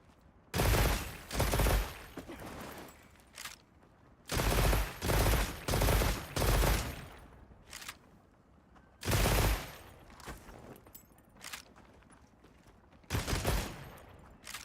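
Automatic gunfire in a video game comes in several sustained loud bursts separated by short pauses, with a few single shots between them. Nobody speaks.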